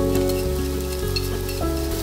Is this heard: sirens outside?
no